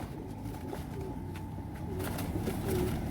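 Soft, low cooing of Hyderabad breed pigeons in a breeder's loft, a few repeated warbling coos close by over quiet background hiss.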